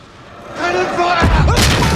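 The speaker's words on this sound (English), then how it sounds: "Cannon" Cannon fire from the pirate film Pirates of the Caribbean, a deep booming blast that swells after a brief quiet and is followed by a rumbling low tail, with a voice heard briefly beforehand.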